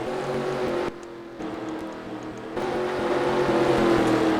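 Engine of a race car in a sim racing Formula 1 game at the Mexico City Grand Prix, a steady mechanical drone with a brief dip then rising again toward the end, continuous with no talk.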